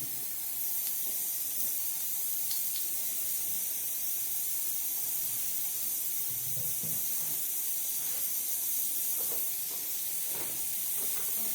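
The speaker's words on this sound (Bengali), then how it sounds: "দিয়ে দিচ্ছে একটু গোটা জিরে ফোড়ন" Whole cumin seeds tempering in hot oil while fish is cooked for a light rohu curry, giving a steady, moderately loud sizzling hiss with faint crackles throughout, no talking.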